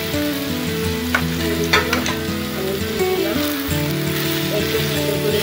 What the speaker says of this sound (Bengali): একটু ভালো করে নেড়ে চেড়ে নেব, মুড়ির সাথে যাতে সব উপকরণগুলো মিশে যায়।